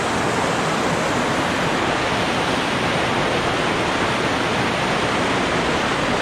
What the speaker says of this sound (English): But look at this as well, this waterfall.